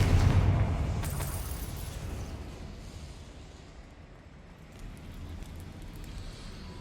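A Confringo blasting spell explodes in the Hogwarts Legacy video game with a loud, deep boom at the start that fades into a long, low rumble. No one speaks.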